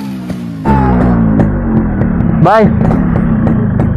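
A Yamaha RX-Z two-stroke motorcycle idles and pulls away for a short ride, its steady buzzing engine note picking up after a moment, with a short chirping sweep midway and someone speaking briefly over it.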